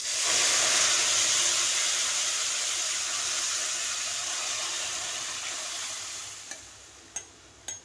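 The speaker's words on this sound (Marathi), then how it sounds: "सांबार ओतून घेते कढईमध्ये।" Sambar poured into a hot kadai hisses and sizzles loudly at once, then slowly fades. A few sharp utensil clinks come near the end.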